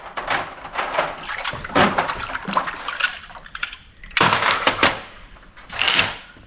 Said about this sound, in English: is washing and rinsing the little jars